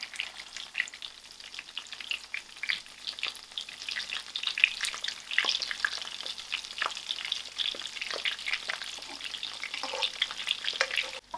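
Crumbed lamb chops fry in a pan with a steady crackling sizzle, with occasional scrapes and taps as they are turned.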